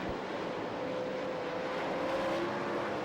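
Sprint cars race on the Knoxville dirt speedway. A dense, continuous engine roar from the pack comes from a distance, with a faint engine note that rises and falls as the cars circle the track.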